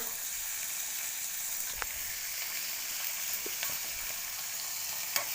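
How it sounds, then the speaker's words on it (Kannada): Tomatoes and garlic fry on a low flame in a pan for mixed sprouts sambar, giving a steady soft sizzle with a few faint clicks of a utensil and no talking. "ನಾನೀಗ ಚೆನ್ನಾಗಿ ಟೊಮೊಟೊ ಮೆತ್ತಗಾಗೋವರೆಗೂ ಬೇಯಿಸ್ಕೊತಾ ಇದ್ದೀನಿ"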